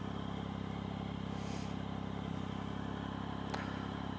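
A warmed-up 2013 Triumph Speed Triple motorcycle engine runs at a steady, even drone on a test ride, fairly quiet, with a brief click near the end and no talking.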